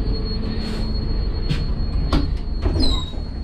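Nanda Devi Superfast passenger train running between Dehradun and Delhi, a steady loud rumble of wheels on rails filling the coach, with sharp metallic squeals and clanks breaking through at intervals.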